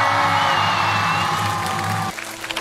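A studio audience at a Chinese TV variety show gives dense, continuous applause with some cheering to welcome a singer. It stays loud and steady for two seconds, then drops off sharply.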